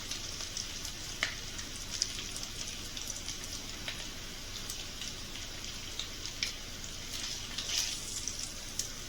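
Bacon frying gently in a pan on low heat, producing a soft continuous sizzle dotted with small pops and crackles, steady and fairly quiet throughout.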